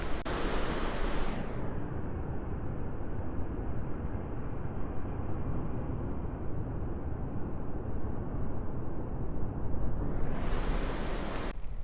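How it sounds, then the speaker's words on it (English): Ocean surf rolls in against sea rocks near Duncans Landing on the coast, a loud, continuous broadband rush of churning water and spray with no break and no voices. "waves coming into the sea rocks"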